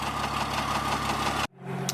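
A 4th gen dually truck's engine runs with a steady idle drone and a faint repetitive knock, cutting out abruptly near the end before a quieter hum resumes.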